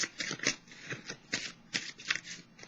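Tarot cards shuffled by hand in quick riffling bursts, close up and soft, a steady run of papery flutters with no voice over them.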